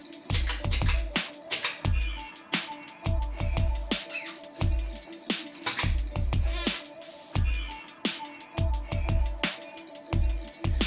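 Guitar run through a multi-effect unit and looped with a MIDI foot controller, playing a steady rhythmic pattern of sharp percussive hits and sustained tones, fairly loud and continuous with no talking.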